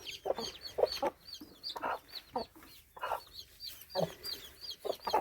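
A hen and her chicks clucking and peeping close by, with short bursts of soft clucks and high chirps in an irregular rhythm and some quiet gaps between.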